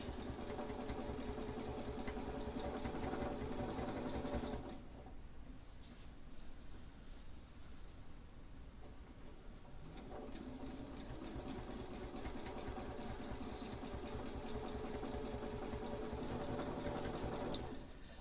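A sewing machine stitches a quilt with a continuous close mechanical whir, stopping for a few seconds partway through and then resuming steadily, with no talk.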